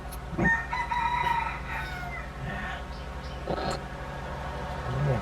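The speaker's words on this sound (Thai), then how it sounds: "พื้นมีไก่นี่ท่านผู้ชม" Roosters crowing with hens clucking around a Thai shrine to Pu Phae and Ya Sa, several calls overlapping at moderate distance over steady outdoor background noise.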